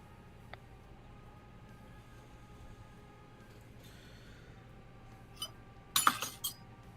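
Glass clinking and breaking, a sharp cluster of bright crashing chinks near the end after a quieter stretch with a few small clicks, fairly close and moderately loud.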